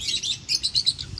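Peach-faced lovebirds chirping in a parrot exhibit, a quick run of bright, high tweets repeating in short bursts, fairly close and clear over a soft background hum.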